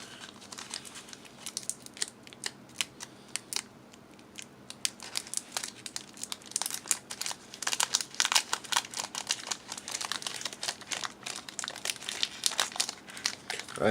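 A 1992 TSR Dungeons and Dragons trading card booster pack being torn open, with close crinkling and crackling of the foil wrapper in bursts that grow busier and louder toward the end, no voice.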